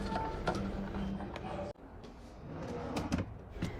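A kitchen drawer is pulled open with a single sharp clunk partway through, set against a steady background hum in a home kitchen.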